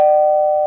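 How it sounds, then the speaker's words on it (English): A doorbell gives one sustained electronic tone, loud and close, that holds steady and fades slightly before cutting off, with no voices. "Oh, the doorbell."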